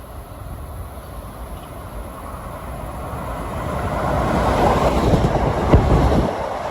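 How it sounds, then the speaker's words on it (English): Westbound Long Island Rail Road equipment train 3749 from Hempstead to Atlantic Terminal passing near Jamaica/Hollis, a rising rumble that swells loud and steady toward the end, with no talking. "coming west at 4:45 is train 3749, equipment from Hempstead to Atlantic Terminal"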